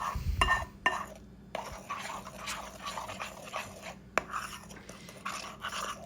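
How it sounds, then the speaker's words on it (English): Melted chocolate mixture being stirred in a bowl for a cherry chocolate blackout pie, with intermittent scraping and clinking of a utensil against the bowl in uneven strokes, fairly close and moderately quiet. "so you mix that up and stir until you've got all the lumps out"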